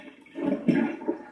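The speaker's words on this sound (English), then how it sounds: "and then I empty out all the water" A short gush of water pours and splashes out of a bowl of rinsed vegetables in one quick surge, close by, then trails off.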